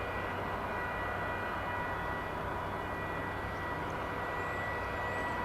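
An Airbus A319 airliner arriving at DFW Airport, a steady, broad jet roar that holds at an even level from a distance, with no voices.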